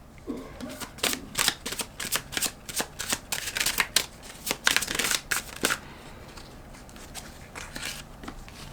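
Tarot cards are shuffled and drawn by hand, a dense run of soft riffling flicks and slaps close by, easing off into a few quieter card sounds near the end.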